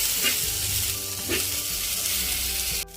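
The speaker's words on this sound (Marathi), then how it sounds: "हे जे फळ आहे चितुर्डीचं हे चांगलं भाजून घेणार आहोत" Chichurdi fruit, a wild vegetable, roasting in a pan with a steady close sizzle and a couple of brief stirring scrapes, continuous for about three seconds before cutting off abruptly at the end.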